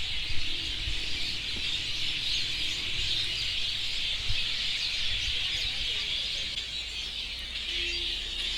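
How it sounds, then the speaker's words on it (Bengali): Birds chirp and twitter steadily in a village at dusk, a dense, moderately loud chorus that fills the air throughout, with a few faint low thumps and distant background noise beneath it. "ওরা এত সুন্দর করে কিচিরমিচির করে ডাকতেছে"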